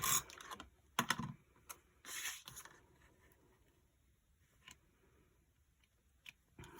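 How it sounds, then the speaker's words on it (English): A tape runner lays adhesive onto a card base, heard as faint clicks and short rasping pulls up close, a few quick strokes with quiet gaps between them and no speech. "I'm just going to use the tape runner, quick and easy"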